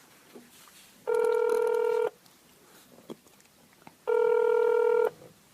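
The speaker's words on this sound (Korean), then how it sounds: "전화 거는 중." A cartoon telephone call plays a ringing tone in two even one-second bursts about three seconds apart, clear and alone against a quiet background.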